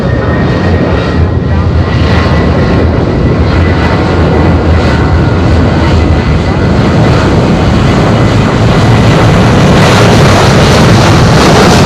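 A fixed-wing airliner takes off from runway 05 at Madeira Airport in strong wind, its engines a loud, steady roar close by, with heavy wind buffeting the microphone throughout.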